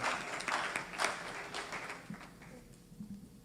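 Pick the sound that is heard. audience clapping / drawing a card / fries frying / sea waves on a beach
audience clapping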